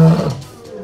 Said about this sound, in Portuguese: o rugido do leão é o mais potente.